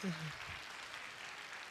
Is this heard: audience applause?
yes